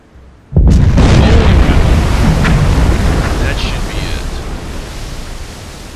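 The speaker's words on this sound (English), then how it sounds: "That was one hell of an explosion." A torpedo striking a ship in the submarine game Silent Hunter 4 sets off a sudden loud blast that opens into a long, rumbling roar, slowly fading over several seconds with no talk.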